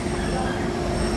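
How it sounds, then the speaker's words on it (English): Disneyland monorail at its loading dock: a loud, steady mechanical rumble and hum with a high, sustained whine, continuous and close throughout. "No, that was from the Monorail loading dock."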